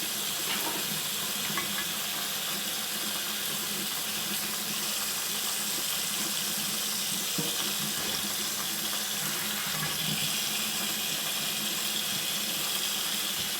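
Peanuts, fresh and early in the season, washed in a sink under a steadily running faucet, a continuous close splash and rush of water with no talk.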